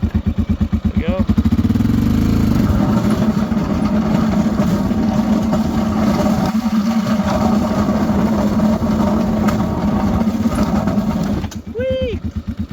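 A four-wheeler ATV with a plow attached runs close by, its engine revving up and then holding a loud, steady, throbbing drone, with a person speaking briefly near the end.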